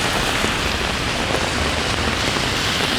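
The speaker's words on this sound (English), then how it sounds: "and it is pouring now." Heavy rain pours down steadily on a city street in Toronto, a loud, dense hiss of drops pattering on surfaces throughout, with no voices.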